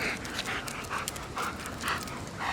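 A police K9 dog pants close by, quick rhythmic breaths coming in steady pairs of puffs, with no talking over them.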